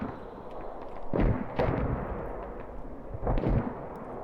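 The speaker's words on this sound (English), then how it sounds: "VAC mortars landing on" Mortar rounds land in the video game Squad, with three or four loud, sharp explosive impacts a second or two apart, each trailing a rumble over steady background battle noise.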